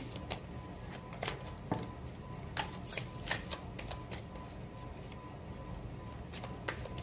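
Tarot cards being shuffled by hand, a quiet run of crisp riffling flutters and soft slaps repeating steadily, close up with no talking.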